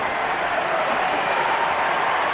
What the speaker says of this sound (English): Now the crowd responds to Kennedy Meeks coming in from the locker room